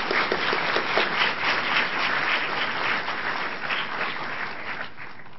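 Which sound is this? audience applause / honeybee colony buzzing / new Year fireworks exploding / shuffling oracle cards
audience applause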